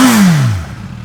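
A 2024 Suzuki GSX-S1000GX motorcycle with a large catalytic converter underneath. Its engine blips, then drops in pitch as the revs fall away and settle, loud and close, with no talking.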